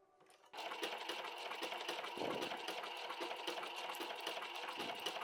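A sewing machine stitches an appliqué bag, starting abruptly after a brief quiet moment and then running in a steady, fast, close whir with rapid needle chatter, pausing only briefly once.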